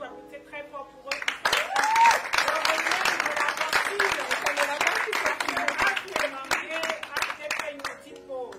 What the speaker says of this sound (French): vous applaudissez très fort pour eux